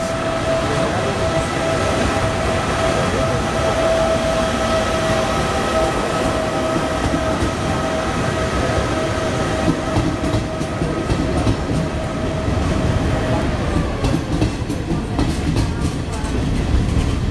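A freight train passes through a station in a loud, continuous rumble of rolling wagons with rhythmic wheel clatter and a faint steady tone, heard up close for the whole stretch.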